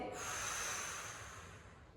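A slow exhale of breath during a stretching exercise, a soft steady airy hiss that fades gradually over about two seconds, close and quiet, with no talking.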